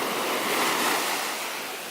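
Ocean surf washing onto a beach in Porto, a steady broadband roar of breaking waves with a slight swell and gentle fade toward the end, no voices.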